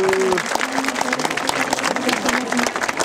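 A stadium crowd at a football match applauding and cheering steadily after a player's goal, a dense continuous wash of clapping and voices with a public-address voice heard briefly over it.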